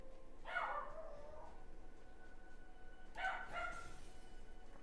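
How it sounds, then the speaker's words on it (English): Two short bursts of barking from a pet dog, heard at a moderate distance over a steady low background hum, with no voices. "He just barks like this every day."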